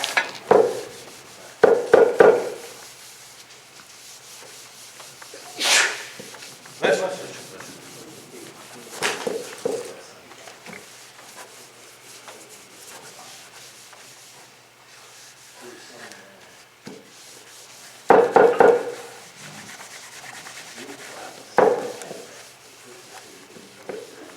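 A clean towel rubs wax off wooden furniture in intermittent bursts of rubbing, with a person talking in between.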